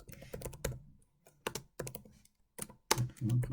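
Computer keyboard typing into a Notepad text file comes in irregular bursts of sharp clicks, close and clear, separated by short pauses.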